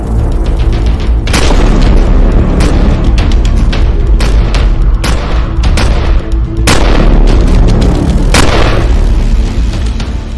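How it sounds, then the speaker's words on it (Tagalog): Loud gunfire sound effect in a narration about the start of the Philippine-American War, a rapid irregular series of sharp, booming shots and blasts over a dense rumbling battle background, with no voice over it. "di nagdalawang isip na paputukan ng baril ni William Grayson ang mga ito"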